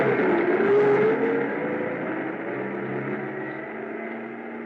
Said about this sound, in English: I stood there in the snow watching the headlights of the truck move away